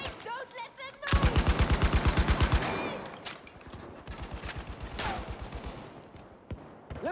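Battlefield V gunfire: a loud, rapid automatic burst of evenly spaced shots, followed by continuing irregular bursts and single shots under a busy battlefield din.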